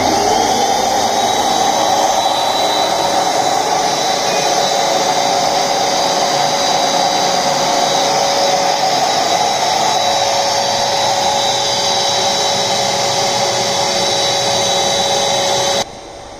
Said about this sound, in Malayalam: ഈ സെയിം ടൈമിൽ ഞാൻ കംപ്രസറോടെ ഓണാക്കാൻ പോകണം.